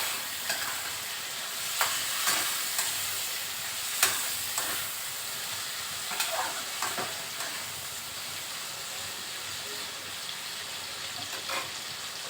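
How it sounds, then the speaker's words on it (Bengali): Washed eggplant pieces fry in hot oil with a constant crackling sizzle close by, broken now and then by the clatter of a spatula stirring the pan. "এই তেলের মধ্যেই আমি বেগুনগুলো যে ধুয়ে রেখেছিলাম, সেই বেগুনগুলো দিয়ে দিলাম।"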